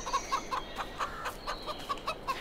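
Hens in the Farming Simulator 22 video game clucking in a pasture enclosure, a quick run of short, evenly spaced clucks at moderate volume with no talk.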